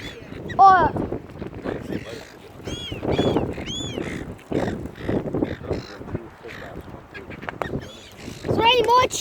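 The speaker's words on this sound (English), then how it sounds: "Seagulls!" Seagulls screeching and calling while being fed chips outdoors, mixed with crow caws, with repeated harsh cries near and far and people talking throughout.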